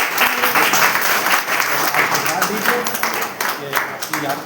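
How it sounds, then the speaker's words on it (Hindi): An audience at a birthday gathering honouring a legislator claps steadily throughout, a dense patter of hands with several voices talking over the applause. "एक बार जरा जोरदार ताली बजाते"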